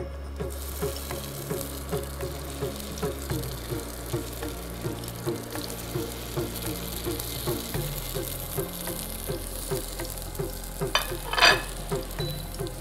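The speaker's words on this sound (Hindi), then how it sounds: "और तेल गर्म होने के बाद इसमें जो हमने शामी कबाब बनाए थे वो इसमें डाल देते हैं।" Shami kebabs fry in hot oil with a continuous close sizzle and crackle, plus a steady low hum and occasional soft pops throughout.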